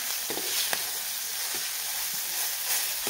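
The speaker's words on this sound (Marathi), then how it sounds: "त्यासाठी मसाला छान आपल्याला परतून घ्यायचा आहे तेलामध्ये." Spice masala fries in oil with a soft, steady sizzle and hiss and a few faint stirring scrapes, close but fairly quiet, with no voices.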